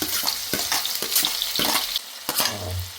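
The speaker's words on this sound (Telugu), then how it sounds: "ఫ్రై చేసుకుందాం ఇప్పుడు చక్కగా ఆనియన్స్ సన్నగా తరిగి పెట్టుకున్న ఆనియన్స్ కూడా వేసేస్తాం" Finely chopped onions go into hot oil with mustard seeds in a pan and fry with a loud, steady sizzle, broken by scraping stirs and a few clinks of the spoon.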